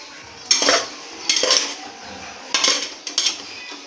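Carrots being stir-fried in ghee on high flame for gajar halwa, heard as a few loud spoon scrapes and clinks against the pan in separate bursts over a faint hiss, close by, with no speech.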